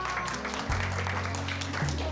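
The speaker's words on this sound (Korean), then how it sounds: "박수주세요." Applause from an audience at a reptile festival talk on crested gecko keeping, a steady spatter of clapping filling the hall for a couple of seconds, with a low hum beneath.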